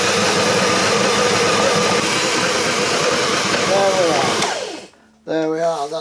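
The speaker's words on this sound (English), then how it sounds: "it needs about another minute with the dough hook to give it a good pounding to get everything mixed" An electric mixer with a dough hook kneads bread dough, droning loudly and steadily for several seconds before shutting off; a voice talks under the motor noise and then speaks once it stops.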